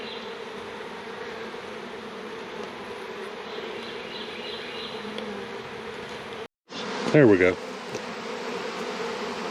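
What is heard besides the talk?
honey bees buzzing at open hive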